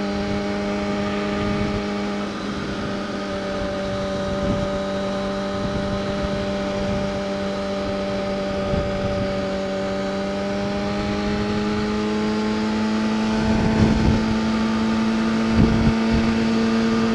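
A Kawasaki Ninja ZX-6R motorcycle runs at about 70 to 75 mph, its engine a loud, steady, tonal drone that swells only slightly under continuous wind rush.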